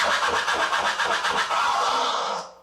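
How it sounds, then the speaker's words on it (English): A continuous vinyl scratch rubbed back and forth on a turntable, loud and close, with steady repeated strokes before a quick fade. "So this is the original scratch sound."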